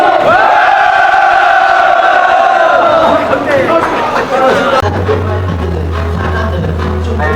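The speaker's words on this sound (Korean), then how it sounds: "힘찬 함성으로 마무리하도록 하겠습니다. 힘찬 함성 시작!" A crowd at an outdoor candlelight protest rally against railway privatization on a cold night lets out a loud sustained collective shout, with a low hum beneath and voices continuing as it fades.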